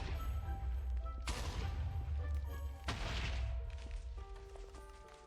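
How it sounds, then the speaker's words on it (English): Two loud blasts from Minecraft explosions burst out about a second and a half apart, each a sharp crack fading into a rumbling crackle, over steady game tones and background hum. "Could add some more time in between explosions."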